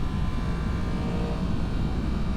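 A 2023 Yamaha MT10 motorcycle engine pulls steadily in second gear at part throttle, a continuous loud broadband roar mixed with wind rush.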